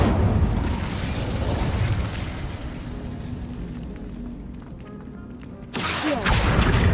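A fire spell bursts in a fantasy video game, with a loud, broad roaring whoosh that holds over several seconds, dips, then flares again in a fresh burst near the end.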